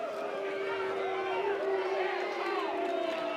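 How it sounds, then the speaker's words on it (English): A stadium baseball crowd at a North Carolina versus USC game keeps up a steady, energetic roar of chatter and cheering throughout, with a commentator's voice running over it. "There's a lot more edge and energy to this crowd early on than there was a day ago."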